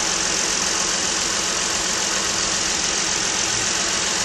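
A 2013 Ford Explorer's 3.5-liter V6 idles steadily, a smooth, constant mid-pitched engine hum with a faint mechanical tick throughout and no talking.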